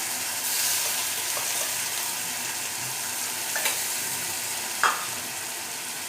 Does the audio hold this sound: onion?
yes